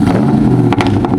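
A supercharged car engine revs loud and close, a low steady drone with a faint whine on top, briefly and with no talk over it.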